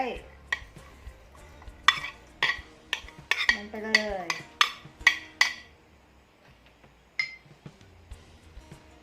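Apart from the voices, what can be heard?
mixing Thai pork larb salad with herbs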